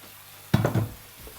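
Spoon stirring macaroni pasta in a large deep oven dish, a short burst of wet scraping and clattering against the dish after a quiet start, with no speech.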